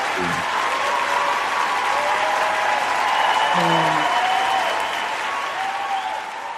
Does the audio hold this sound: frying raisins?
no